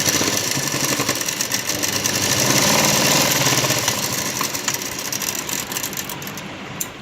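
A sewing machine runs in a continuous mechanical whir while stitching the shoulders of a blouse. It holds a steady pace throughout, fairly close, with no talking.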